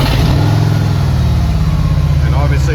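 A 2024 Harley-Davidson Road Glide Limited fitted with Reinhardt slip-on exhausts rumbles at a steady, loud idle inside a garage, its deep low-pitched throb constant throughout with a faint higher whine near the end.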